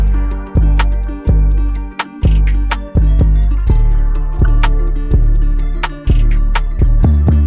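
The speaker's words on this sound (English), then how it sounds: "how to make Spanish guitar beats that sound like this" A trap beat built on Spanish guitar, made in FL Studio: plucked nylon-style guitar phrases over heavy booming 808 bass hits and sharp hi-hat and snare clicks in a steady pattern, loud and upfront with no voices.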